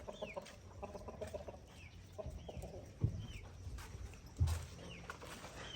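Chickens and chicks in a yard in Ghana: soft repeated clucks and thin chick peeps, with two louder thumps partway through, fairly faint and with no talk.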